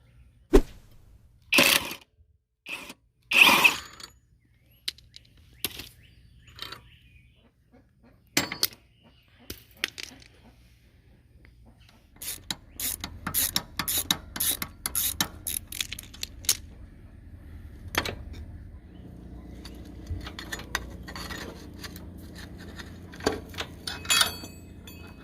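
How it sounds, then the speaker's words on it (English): Metal clanks, tool clicks and jangling parts sound in scattered bursts as a chain and four bolts come off a junker ATV, close and fairly quiet, with a steadier low hum in the second half. "take our chain off, get our 4 bolts off, and then pop all that garbage off."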